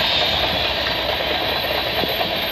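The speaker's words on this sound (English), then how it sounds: "we got a CN westbound train coming down the line" CN westbound freight locomotives, units 3142 and 2856, rumble past on the Oakville subdivision at mile 32 near Burlington Junction, a loud, steady diesel engine drone with clanking wheel noise and a faint high whine.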